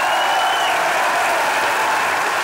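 Dense, loud theatre audience applause fills the hall steadily throughout, a continuous wash of many hands clapping with no voices on top.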